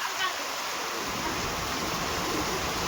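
After heavy rain, a swollen river flows full between both banks: an unbroken, loud, hissing rush of water that holds steady for the whole stretch.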